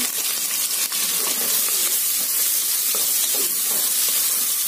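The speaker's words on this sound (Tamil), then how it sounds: "வெங்காயம் வந்து நல்லா வதங்கணுங்க." Three large onions and two green chillies, cut up, sizzle steadily in a pan for mushroom biryani, giving a dense, continuous hiss with faint crackles and stirring at close range and no talk.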